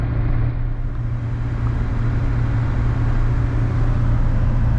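A 1997 Ford F-350 XLT 4x4 pickup with the 7.3L Powerstroke diesel cruising at highway speed, a constant low engine drone and road hum from inside the cab, loud and unbroken.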